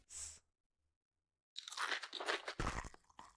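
Crisp crunchy chewing close to the ear, a short bite first, then a pause of silence before a longer run of loud crunching chews.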